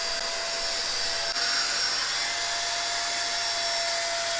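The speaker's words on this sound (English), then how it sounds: "The dryer part does work really good," A Temu hot air dryer brush blows steadily, a constant close whooshing roar with a thin whine, running unbroken for several seconds with no talking.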